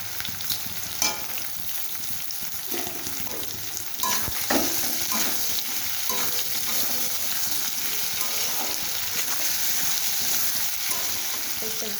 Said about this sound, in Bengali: আমি দুটো পেঁয়াজকে কুচি কুচি করে রেখেছি পেঁয়াজ দুটিকে দিয়ে দেবো